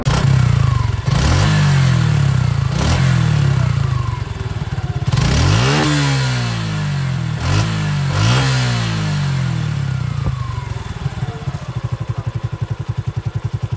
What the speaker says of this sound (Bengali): জাস্ট আপনাদেরকে এই বাইকটার সাউন্ডটা শোনাবো